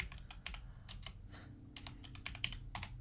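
Quick, irregular keystrokes on a computer keyboard, clattering in short bursts at close range with no voice over them.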